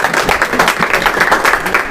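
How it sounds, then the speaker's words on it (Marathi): Enthusiastic applause from an audience at a study hall event in Nanded, a dense steady patter of many hands clapping throughout, close and continuous. "तर दादांसाठी एकदा जोरदार टाळ्या होत्या मित्रांनो"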